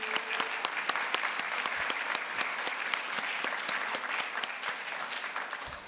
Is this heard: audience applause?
yes